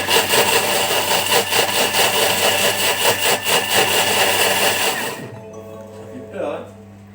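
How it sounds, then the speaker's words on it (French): A Thermomix whirs loudly at high speed while mixing eggs and sugar for cake batter, running steadily for about five seconds before cutting off abruptly into a quiet kitchen. "Le Thermomix a terminé de mélanger."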